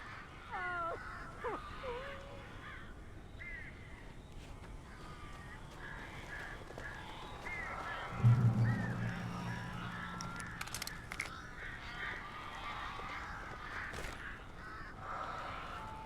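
Crows caw repeatedly in the video game Alan Wake, harsh calls scattered through a dark ambient backdrop, with a louder low rumbling burst partway through; no one speaks.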